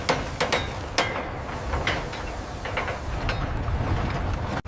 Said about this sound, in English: Set the rivet now!